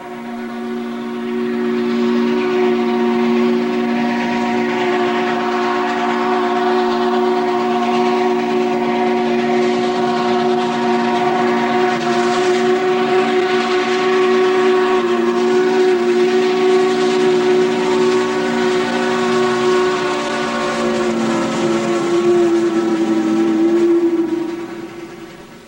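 A steam excursion train backing up sounds its steam whistle in one long, loud, sustained chord that holds steady for over twenty seconds, then shifts pitch slightly and fades at the end.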